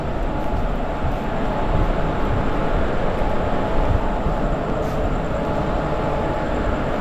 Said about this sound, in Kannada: ಸೊ ಅಲ್ಲಿ ಆ ಕಡೆ ಒಂದು ಟ್ರೈನ್ ಬಂದಿದೆ